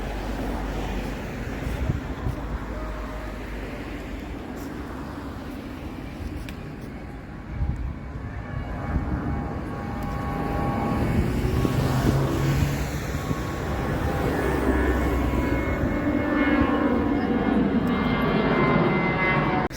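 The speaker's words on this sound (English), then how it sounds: "at least we are seeing the takeoffs." An airliner takes off from Almaty airport, its jet engine roar building from a distant rumble into a loud, sustained wash with rising whine as it climbs, heard from outdoors some way off.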